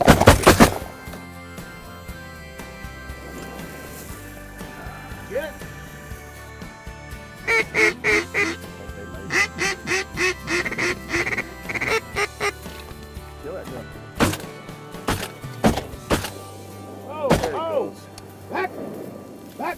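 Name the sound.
ducks quacking during a duck hunt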